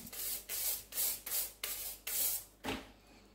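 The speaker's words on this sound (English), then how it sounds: "Once it's had a few minutes soaking in the soda crystal solution, just going to very gently scrub it" A chainsaw chain soaked in soda crystal solution is gently scrubbed with a brush: seven rhythmic rasping strokes, close and fairly loud, evenly spaced with short pauses between them, no talking.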